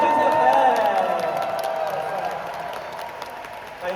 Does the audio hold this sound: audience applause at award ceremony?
yes